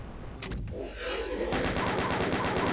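A lowering platform in the video game DOOM: a hiss and clank, then a loud, fast, rhythmic mechanical rattle that grinds on steadily.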